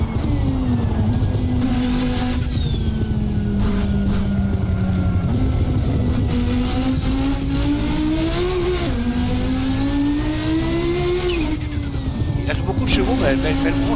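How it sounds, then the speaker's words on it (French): Audi S1 silhouette race car with a five-cylinder engine note in Assetto Corsa, loud and close, revving up and down through gear changes with a steady rising and falling drone, while someone talks over it. "Puisque là on a le bruit du 5 cylindres dit, mais en vérité, elle est propulsée par un V8 biturbo"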